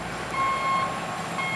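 A dump truck trailer hauling soil sounds its reversing alarm, a steady electronic tone that sounds once and then starts again, moderately distant over a continuous engine rumble.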